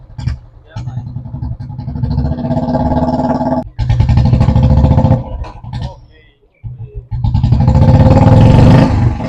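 A motorcycle engine chugs and revs loudly nearby, cutting out briefly twice before firing up and running again, with people talking over it in parts.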